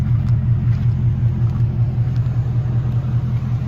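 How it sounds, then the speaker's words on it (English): Ford F-150 pickup from 2019, fitted with 33-inch BFGoodrich KO2 tires and a 2-inch leveling kit, idles and revs close by in a steady, loud, deep low rumble with a pulsing rhythm and no talk over it. "Go inside, rev it up a bit for you."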